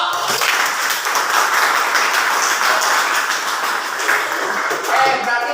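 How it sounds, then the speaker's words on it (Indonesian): A high school class applauds three student groups, close and fairly loud scattered clapping continuing throughout, with some voices mixed in. "Kita tepuk tangan untuk 3 kelompok"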